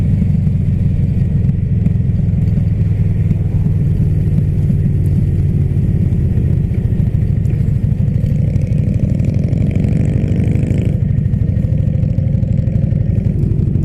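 Honda CBR motorcycle ridden with the throttle held open, a loud continuous engine drone with wind rumble whose pitch climbs steadily before dropping abruptly near the end.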